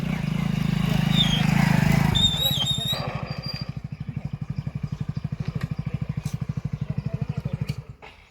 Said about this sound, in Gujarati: બાઈક આવે